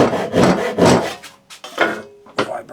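A hand saw rasps through wood in several strong back-and-forth strokes, close and loud, slowing into shorter strokes toward the end.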